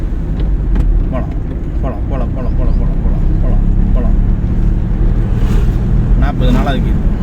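A car accelerates hard and shifts up through second to third gear during a driving lesson, its engine droning loud and close while an instructor talks over it.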